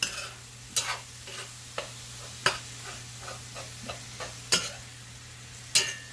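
Ground turkey sizzles steadily in a pan while a utensil scrapes and chops against it at irregular intervals, close up.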